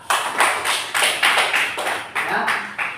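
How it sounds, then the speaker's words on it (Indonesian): Applause from an audience at a gathering, heard as repeated bursts of clapping that swell and fade in close succession, fairly loud and near. "Tepuk tangan untuk Ustaz."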